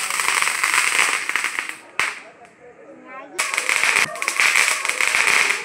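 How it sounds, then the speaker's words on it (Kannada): Diwali firecrackers bursting outdoors in a loud, rapid string of crackling bangs, then a brief lull before another dense, sustained barrage resumes. "ಭರ್ಜರಿಯಾಗಿ ಪಟಾಕಿ ಹಚ್ಚಲತ್ತಾರ ಹೊರಗಡೆ ನೋಡ್ಬೋದು."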